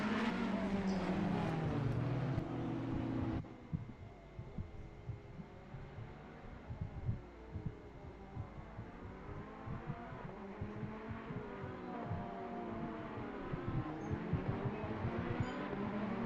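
Race cars lapping the Imola circuit in Assetto Corsa Competizione, engines rising and falling through gear changes with repeated pass-bys, steady and fairly loud from start to finish.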